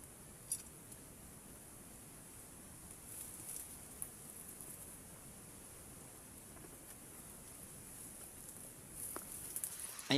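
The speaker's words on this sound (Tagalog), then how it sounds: "bumagsak na yung ulan" Rain falls steadily outdoors under an acacia tree near a small hut, a soft, even hiss that runs throughout and swells slightly near the end.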